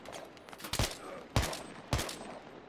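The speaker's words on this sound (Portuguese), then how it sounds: "eu tô num tiroteio pro cara aqui" Gunfire in the video game Battlefield 3, heard as three separate loud, sharp bursts spaced roughly half a second apart, each cracking out over a low, busy background.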